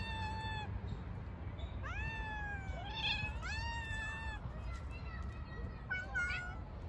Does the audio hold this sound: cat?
yes